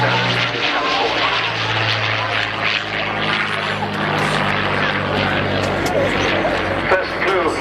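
A restored Curtiss P-40 fighter at the 2015 Cosford airshow fills the air with a loud, steady piston-engine and propeller drone, and a voice speaks over it.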